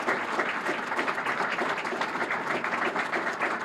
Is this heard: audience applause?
yes